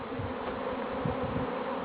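Steady, close buzzing of many honeybees carrying hazel pollen, a continuous hum with no voices.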